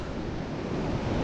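Rough sea waves breaking on the shore during a fishing outing, a continuous loud broadband wash with wind buffeting the microphone, no voices over it.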